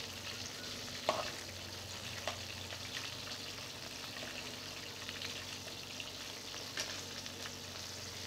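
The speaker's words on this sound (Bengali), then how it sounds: "এই দেখ ট্যাংরা মাছগুলো মোটামুটি ভাজা হয়ে যাচ্ছে, আমি হালকা আছি ভাজছি মাছটা।" Tangra fish fry gently in a pan with a steady, low sizzle, a few faint clinks and stirring scrapes over the top and no voices.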